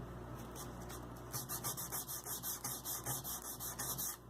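Sandpaper rubs back and forth over the frets of an old Ibanez guitar during fret leveling, a dry close rasping in about a dozen quick, even strokes after a few scattered scrapes.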